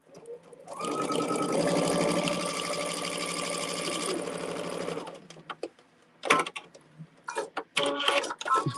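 A sewing machine runs steadily for about four seconds while stitching quilt blocks, close and fairly loud, then stops and leaves a few soft handling clicks and rustles.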